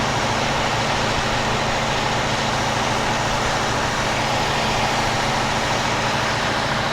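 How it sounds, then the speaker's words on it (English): A car engine runs at about 1500 RPM while the A/C is being recharged, a steady, continuous drone with no talking over it. "I'm having the gas revved up right now. It's sitting at about 1500 RPM"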